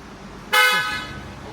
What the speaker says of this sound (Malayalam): ഒരു ഹോൺ സെലക്ട് ചെയ്തുകൊണ്ടിരിക്കുക കേട്ടോ, ഹോണും വെക്കാനുണ്ട്